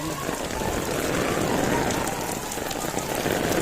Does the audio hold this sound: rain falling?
yes